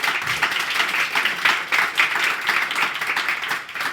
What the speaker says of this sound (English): a little round of applause to the panelists first